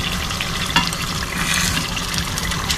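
Wet sloshing and gentle scraping as a thick fish curry is stirred in a pot, steady and close, with a faint sizzle beneath.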